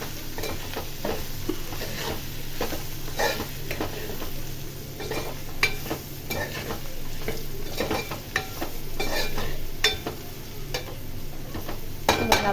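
Mixed vegetables fry in a pan with salt, turmeric, coriander, cumin and fenugreek powders, giving a steady close sizzle broken by frequent scraping and clinking stirs, with no talking.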